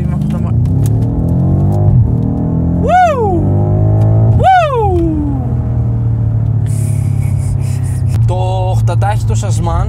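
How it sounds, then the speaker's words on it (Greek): A 750-horsepower BMW M5 Stage 2 accelerates hard on the Autobahn. It gives a deep, loud rumble as the revs climb, and its 8-speed automatic snaps through quick upshifts while voices talk inside the cabin. "Το 8τάχυτο Sasman με το πρόγραμμα που έχει πάνω αλλάζει πάρα πολύ γρήγορα τις ταχύτητες."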